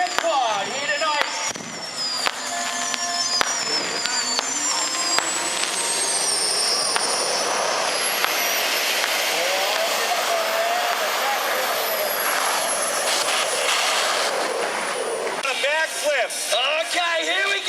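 A jet pod roars past at a monster truck show in Gosford, Australia, a loud, sustained jet-engine howl that sweeps upward and falls away, while an announcer talks over it and a crowd is heard.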